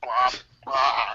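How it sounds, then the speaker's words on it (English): Baby sneeze sound effect from a free phone ringtone app: two quick, high, bright vocal bursts close together, the first short and the second longer, clear and close with nothing else around them. "you got a baby sneeze"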